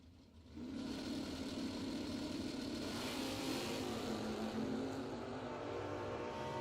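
A drag racing car at a bracket race launches with a loud, sustained engine roar that starts abruptly and holds steady and close for several seconds.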